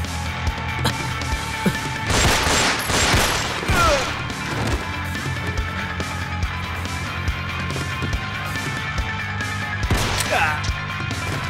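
Gunfire in a dubbed Thai action film: sharp, loud cracks and impacts cluster early and again near the end over a dense, noisy action soundtrack.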